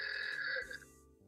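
A phone ringtone imitating a Model T car horn sounds one short, buzzy, nasal honk. The tone lasts under a second, then cuts off into near silence.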